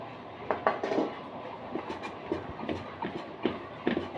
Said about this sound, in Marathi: इथं मी फुलपात्र घेतलं त्याच्या साह्याने डाळ बारीक करते